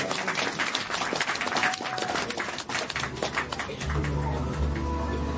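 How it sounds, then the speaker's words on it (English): Audience applause at a live music show at Yuyintang in Shanghai, dense clapping that carries through before fading into a low sustained hum and room tone toward the end. "So if you could help me applaud his glory. Another round of applause."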